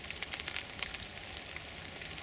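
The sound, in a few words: light rain falling in woods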